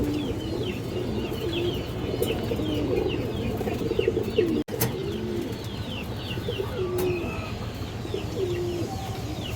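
Pigeons coo in low, repeated rolling calls close by, layered with scattered chirps from other birds in a busy loft, all steady with no talking.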